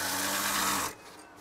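A sewing machine stitches curtain fabric in a steady, fast mechanical whir that stops abruptly just before the end, leaving a quiet room.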